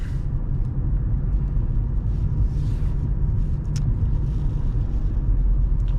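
Steady low road rumble fills the cabin of a 2020 Nissan Sentra economy car while driving, a constant dense drone with no talking.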